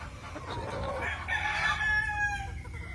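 A Power Lemon Sweater gamefowl rooster crows once at a farm during breeding season, a rising, strained call peaking mid-way then trailing off, moderately near over faint background noise.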